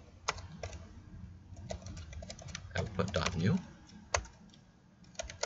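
Bursts of quick computer keyboard typing at a Linux shell, clicky keystrokes in irregular clusters, with a person speaking briefly over them.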